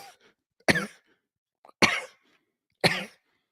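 A man gives three sharp, harsh coughs, about a second apart, each one close and loud, with near silence between them.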